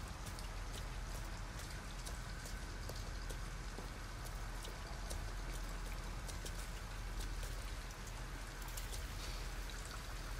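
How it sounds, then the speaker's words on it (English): Steady rain falls in the Detroit: Become Human video game, a dense continuous patter of drops on surfaces with no pause, close and even throughout. "At least we'd be out of the rain."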